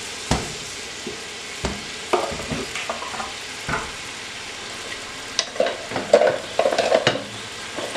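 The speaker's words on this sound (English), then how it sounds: "we're going to go ahead and give that a nice stir in the olive oil" Half of a big chopped onion sizzles in olive oil while a utensil stirs it, giving a steady frying hiss broken by close scraping strokes and louder clattering stirs toward the end.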